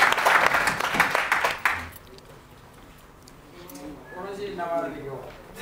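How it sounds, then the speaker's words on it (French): A studio audience at a French-language football talk show claps loudly for about two seconds in a dense burst, then the applause breaks off and people talk. "applaudissez pour le partenaire 22 ans"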